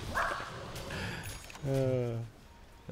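A dog barks briefly in a room with people talking over it, a short harmonic bark followed by a longer whining yelp.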